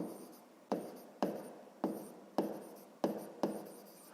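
Pen strokes on paper while working a sixth-grade math exercise, a series of seven crisp scratchy strokes roughly every half second, each fading quickly, close and quiet with no talking.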